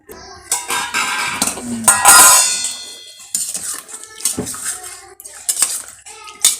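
Cooked rice and food being scooped from metal pots and vessels at a village Sankranti meal, with loud, close clanks and scrapes of ladles against steel in irregular bursts, no talking.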